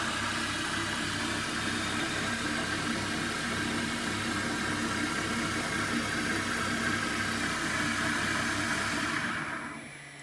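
A Mach4 servo motor drives the spindle of a G0768 lathe with a steady, continuous mechanical hum and whir, near and even, then fades out at the very end.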